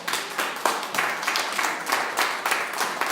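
A church congregation claps during a Spanish-language sermon, the applause coming in fairly rhythmic, distinct bursts of many hands, moderately loud and steady throughout.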